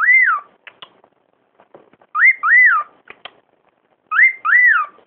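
Pet birds whistle in a clear, loud, near series of rising-falling tonal phrases, arriving in short bursts separated by quieter chirps and clicks.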